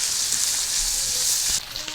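Diced colored bell peppers fry in a pan with a continuous bright sizzle at moderate volume, then a brief clatter near the end as the sizzling drops slightly.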